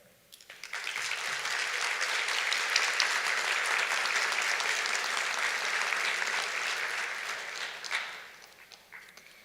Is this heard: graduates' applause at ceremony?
yes